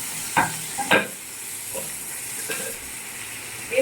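Chopped onion and a whole tomato fry in a pan for a kofta curry, a steady close sizzle with a few sharp spatula stirs and clinks over the hiss.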